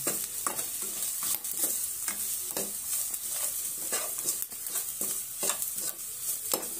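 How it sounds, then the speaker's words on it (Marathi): Spices, salt and turmeric being stirred and fried in oil in a pan for a cashew paneer curry: a soft continuous sizzle broken by repeated scraping strokes of a spoon, close and moderately quiet. "हे सर्व आता आपण यात मिक्स करून घेऊ आणि हे चांगल्या प्रकारे असं तेलात परतून घेऊ"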